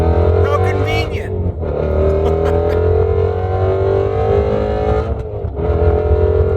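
A Ford Shelby GT350 accelerates hard up a highway on-ramp, its engine roaring loud and close, climbing in pitch through the gears with a brief dip at a shift before pulling again.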